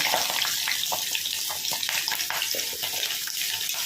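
Small sambar onions sauté in a pan with crushed garlic and three dried red chillies, a close, even hiss of frying with soft scrapes and light crackles throughout.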